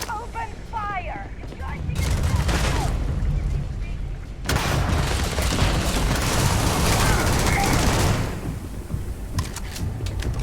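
Heavy gunfire in Starfield, sustained volleys with booming impacts, loud and close, broken by a brief lull midway and easing off toward the end.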